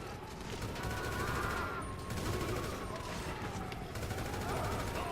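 Sustained bursts of automatic gunfire from Gunrunning weapons in the video game GTA 5, a dense continuous rattle running through the whole stretch at steady loudness, with faint talk mixed underneath.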